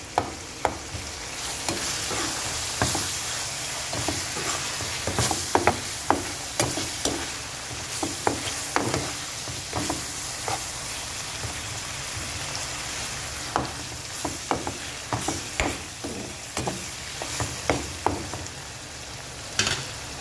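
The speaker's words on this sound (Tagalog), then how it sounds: "Pag medyo luto na yung atay, lagay na natin yung Knorr cubes. Tunawin natin yung Knorr cubes." Chicken liver frying in a pan as Knorr stock cubes are stirred in to dissolve, a steady sizzle broken by frequent scraping, clinking strokes of the spoon against the pan, close and alone.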